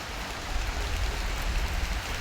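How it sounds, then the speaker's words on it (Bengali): Heavy rain falls on a road in Sherpur district, a dense, even patter on hard surfaces heard up close, with no speech over it. "সবাই মিলে দেখেন শেরপুর জেলা বৃষ্টি হচ্ছে"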